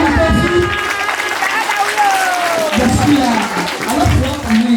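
Audience applause at a children's poetry recitation in an FPCT church, a steady broadband patter running the whole time beneath a speaking voice.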